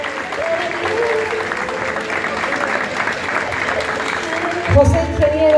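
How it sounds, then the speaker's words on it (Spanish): Applause from the crowd at a charity dinner show for a hospital, sustained and fairly loud, with music and voices mixed in near the end. "aplauso"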